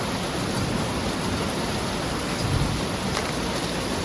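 Heavy rain pours steadily during a big storm, a dense, loud, unbroken wash of noise with no gaps and no voices.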